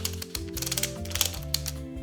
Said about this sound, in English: It has 8 aperture blades, with the aperture ring clicking at every full stop